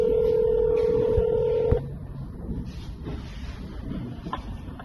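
A steady telephone dial tone, then a sharp click as the line changes, followed by a quieter background hum on a call to an Armenian service line, with no voices heard.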